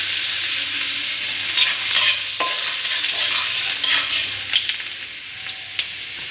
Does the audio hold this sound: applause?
no